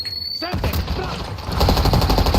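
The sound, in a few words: gunfire in the video game Warzone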